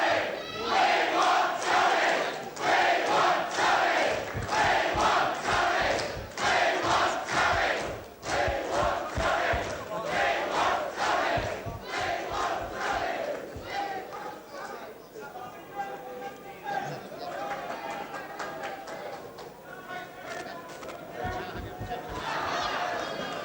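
A crowd shouting and chanting at a 1984 Chesterfield by-election count, a loud rhythmic roar of many voices that eases off a little toward the end.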